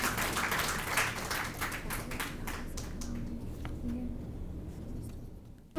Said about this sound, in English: A round of applause for all the participants and the coordinators.